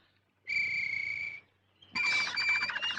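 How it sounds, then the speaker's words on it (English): A canary sings nearby in two bursts: a sustained high trill, a short pause, then a brighter, warbling phrase. "I want a canary for company. Perhaps I can make him sing."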